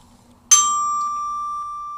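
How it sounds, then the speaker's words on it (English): Orchestra bells (glockenspiel) struck once on a D, a single bright metallic strike that keeps ringing with a long, steady, slowly fading sustain, heard alone and up close. "on the bells, it's going to ring for a really long time"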